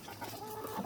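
A hen clucks softly in a backyard chicken setting, a few low, murmuring clucks over steady faint background noise.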